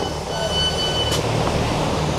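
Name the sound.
train pulling into station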